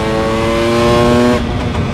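Two-stroke motorcycle engine held at a high, steady rev during a wheelie on a fast road ride, loud and close with a droning harmonic tone that drops off abruptly near the end.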